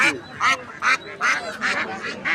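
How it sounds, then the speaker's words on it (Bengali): Ducks at a morning poultry market at Bonpara bazaar quack loudly in a run of about six close, harsh bursts, with a little background chatter. "খালি হাঁস আর হাঁস"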